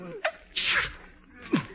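A single sharp sneeze bursts out in an old-time radio detective drama, preceded by a quick breathy intake and followed by a short vocal sound, close and moderately loud.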